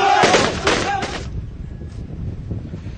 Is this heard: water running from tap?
no